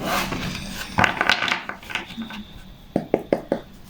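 Tarot and oracle cards shuffled by hand at close range: a run of papery riffles and flicks, then several sharp, evenly spaced taps as the deck is squared, with no speech.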